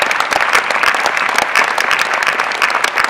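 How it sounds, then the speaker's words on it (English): Loud, close applause from the audience at the Pinnacle Awards, a dense continuous clatter of many clapping hands with scattered sharper individual claps throughout. "Let's give them a big round of applause."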